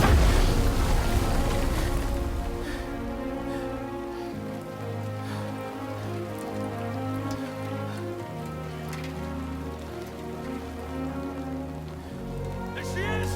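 Steady rain in the video game Death Stranding 2 patters and hisses over a low, droning musical background, with a few brief tonal accents scattered throughout.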